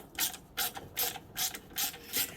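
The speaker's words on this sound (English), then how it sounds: "so now let's get the socket set out. We need a 1/4 inch. Take out that" A 1/4-inch socket ratchet clicks through six quick, evenly spaced bursts while backing a screw out of a Giant Vac leaf blower, close and crisp with no talking.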